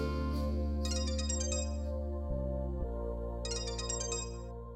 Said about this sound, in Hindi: दी वो स्वीटी का ही फोन है।